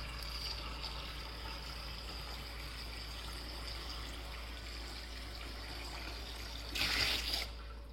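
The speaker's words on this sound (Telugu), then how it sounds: "సో నేను మళ్ళీ వాటర్ని పోస్తున్నాను" Water poured by hand into a Sanjeevini water filter makes a soft, continuous splashing trickle, with a short louder gush near the end and no talk.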